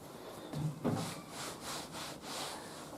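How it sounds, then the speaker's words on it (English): Cloth rubbing over the body of a Hoover Spinarinse 3012A spin dryer, a soft rhythmic wiping with a few brief thumps near the start, close and moderately quiet. "Just give the body of the spinner a wipe."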